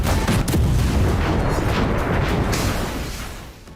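Ukrainian army artillery firing: one powerful, rumbling blast fills the opening seconds, then its roar slowly fades away, with no voices present.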